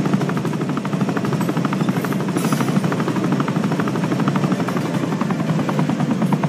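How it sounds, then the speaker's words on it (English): Helicopter flying in the ZOZ: Final Hour mobile zombie game, a loud, steady rotor chop with a dense buzzing whir, continuous and close throughout with no voices. "steer the chopper to the glowing circle up ahead"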